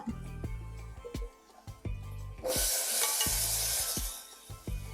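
Chopped vegetables drop into a pan of sautéed onions and tomatoes for sambar rice, setting off a loud, steady sizzle midway, with rhythmic spoon taps against the pan before and during.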